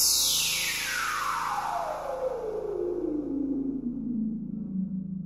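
Frostbite 2 spectral freeze plugin in reverb mode produces a loud sustained wash whose bright upper band sweeps steadily downward over about five seconds, heard alone without talk.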